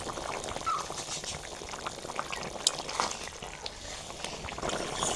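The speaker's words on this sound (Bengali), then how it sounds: "তরকারিতে ঝোলটা ফুটে গেছে" A thin fish curry of village-style snakehead (shol) with flat beans, potato and tomato bubbles in a pot, a steady close seething with small pops and bursts, no voices over it.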